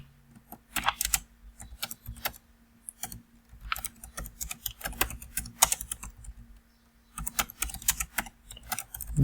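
Keys clatter on a computer keyboard in quick irregular bursts with short pauses, fairly close and clear, while someone types a service name during a System Center Operations Manager setup; no one speaks.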